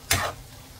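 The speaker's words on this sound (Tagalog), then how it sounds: "So, i-mix na natin para i-itim yung kanyang sabaw." A single quick stir of squid adobo in a pan, a brief scraping swish with a soft sizzle, close and short, no voices.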